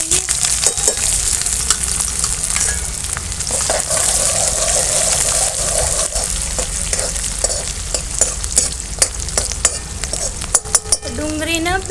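Chopped onions and chilies hitting hot oil in a pan for a village-style okra and potato curry, a loud continuous sizzle broken by scraping and clinking as a spoon stirs the pan.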